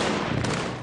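Gunfire rings through the city streets of Damascus during heavy clashes, a dense, continuous barrage of shots with no voices.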